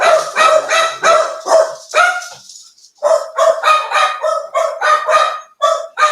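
Several dogs bark loudly and close by in quick repeated bursts, pausing briefly before another rapid run of barks.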